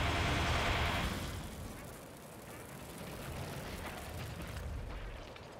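Missiles exploding in the factory-building game Factorio, modded, a dense rumbling barrage of blasts that starts loud and then settles into a steady, slightly softer roar for the rest of the clip.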